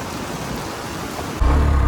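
Rain falling in Noida, a steady hiss of drops on surfaces that suddenly grows heavier and louder partway through, with no one talking.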